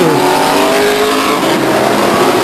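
Race cars at Stockton 99 Speedway roaring past the grandstands mid-race, a loud, continuous blend of engine noise with layered revving tones and no break.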